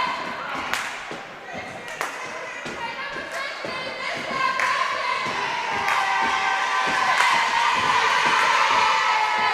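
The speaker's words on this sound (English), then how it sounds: "The crowd getting into it" Crowd at a high school basketball championship game cheering and shouting, with repeated ball bounces and thuds on the court, the noise swelling louder toward the end while an announcer talks over it.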